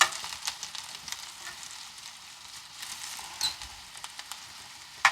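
Potatoes fry in a hot cast iron skillet with a steady, dense sizzle that holds close and even. Brief crackles and pops rise out of it now and then, and no one speaks.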